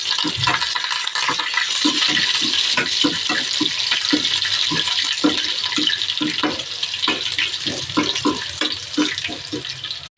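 Curry leaves and crushed garlic with cumin and urad dal sputter and sizzle in hot oil for an onion chutney, a loud, close, continuous crackle with repeated stirring scrapes and no talking.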